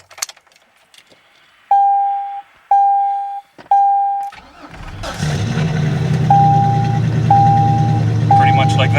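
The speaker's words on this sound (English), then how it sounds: "2003 Chevrolet Silverado. Cold start, freshly charged battery," A 2003 Chevrolet Silverado pickup truck cold-starts on a freshly charged battery: three loud chime beeps from the cab, then the engine cranks and catches into a strong, steady idle close by, with more beeps over the running engine.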